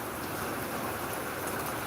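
Rain falls outside an open hotel window in Gboko, the first rain of the year, a soft, even wash of steady patter with no talking.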